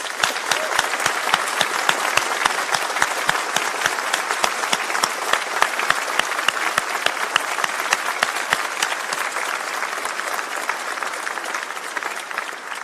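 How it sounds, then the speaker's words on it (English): Sustained round of applause from a graduation ceremony audience, steady dense clapping with some sharp individual claps standing out, gradually thinning toward the end. "join me this time in a rapturous round of applause"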